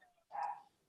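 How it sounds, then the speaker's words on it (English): A single short bark from a dog in a home near an office, muffled and fairly quiet, as if heard from another room. "I'm just going to go close my office door because my dogs are barking"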